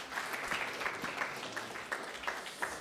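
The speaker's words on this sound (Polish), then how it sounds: "Brawa dla Kuby." An audience applauds a departing contestant at a youth quiz tournament modeled on a TV knowledge show, held at a youth gathering in Podkowa Leśna; steady, moderately loud clapping from a room of people fills the few seconds without speech.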